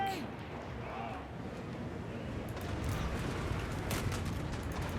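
Volleys of musket and handgun fire crackle in a Total War: Warhammer 3 battle as pistolier cavalry get shot, a dense rolling fusillade that grows louder midway, with sharper bursts near the end.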